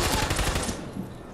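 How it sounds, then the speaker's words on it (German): Gunfire in the video game Fortnite, a quick burst of rapid shots in the first half second that fades into a short echoing tail. "Einmal drauf schießt er weg. Schießt einfach drauf auf ihn."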